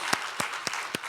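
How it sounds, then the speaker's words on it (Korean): A church congregation claps for the worship team in four slow, evenly spaced claps, soft and somewhat distant over a faint room hiss, with no voices. "우리 찬양팀에게 박수 한번 하겠습니다."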